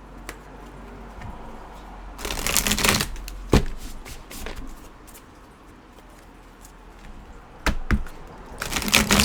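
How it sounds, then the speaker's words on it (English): Animal oracle cards are shuffled and pulled, with two fast riffling bursts, one early and one near the end, between scattered close taps and flicks of the card stock. "I'm gonna pull an animal card"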